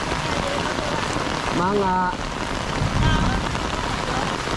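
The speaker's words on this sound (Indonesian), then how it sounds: "Ya hujan agengnya." Heavy rain pours down in a village, a dense, loud, continuous hiss of drops on surfaces filling the whole stretch, while a person speaks briefly over it.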